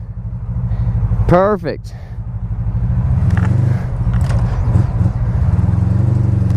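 A Honda Magna Legend motorcycle engine idles steadily off choke, a loud, close, even low rumble that runs throughout, with a brief voice over it partway through.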